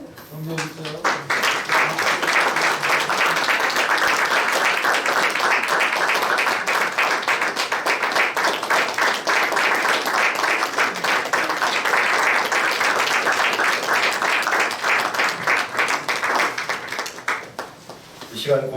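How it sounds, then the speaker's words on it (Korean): A congregation claps at a Presbyterian church ordination service, a long, loud, even round of applause that swells, holds steady and tapers off near the end. "박수."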